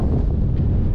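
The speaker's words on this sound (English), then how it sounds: "Wind is out of control." Strong wind buffeting the microphone outdoors in an old Western town, a loud continuous low rumble with no other sounds.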